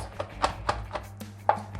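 A knife chops cookie dough ingredients on a cutting board in a loose rhythm of about seven soft taps, close by and fairly quiet.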